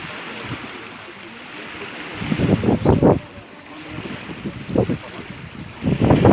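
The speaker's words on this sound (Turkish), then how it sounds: "biraz rüzgar var" Gusting wind at a seaside beach buffets the microphone in low rumbling bursts, rising and falling over a steady outdoor background, with water and waves faintly audible.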